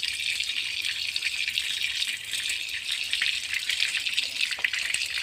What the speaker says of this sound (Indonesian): Pertama, cuci dengan air mengalir.